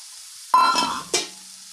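Grated carrot for carrot halwa frying in ghee in a pan, heard as two sudden loud sizzling scrapes, probably from stirring, each fading quickly over a faint hiss, close up with no talk.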